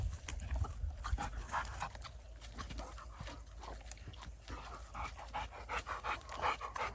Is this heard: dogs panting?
yes